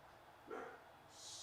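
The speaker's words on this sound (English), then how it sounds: "Always barking. Funny dog." A dog gives one short bark, faint and distant in the background, followed by a soft high hiss.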